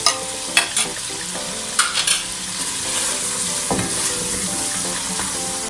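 Minced meat with fenugreek fries loudly in a pan, a dense steady sizzle opened by several sharp spatula scrapes and knocks in the first seconds.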